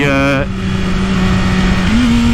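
A BMW S1000RR superbike engine drops sharply in pitch on a downshift with throttle, then holds a loud, steady drone and climbs briefly at the end; over the short span a voice talks beneath it.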